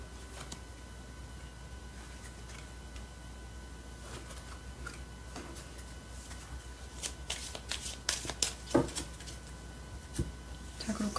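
Tarot cards are shuffled at close range, a soft continuous riffling that grows into sharper, louder card flicks and snaps toward the end, with no talk.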